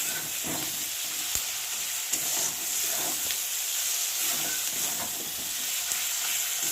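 Spice paste for a desi chicken curry fries in a pan, a continuous close hiss and sizzle punctuated by a few sharp clicks from stirring.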